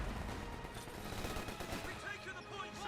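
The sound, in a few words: Bofors artillery fire in video game Company of Heroes 2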